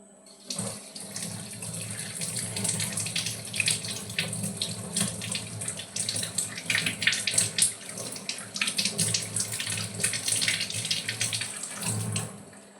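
A kitchen tap runs steadily while grapes are rinsed under it, a close, continuous rush of water with slight splashing shifts and no pauses.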